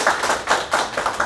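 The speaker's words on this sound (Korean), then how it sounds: "지금까지 패널 토론에 참석해 주신 모든 분들께 다시 한번 큰 박수를 부탁드리겠습니다" Audience applause for panel discussion participants at a forum on the metaverse, heard as a short burst of clapping with rhythmic swells of many hands, moderately loud and close, with no talking over it.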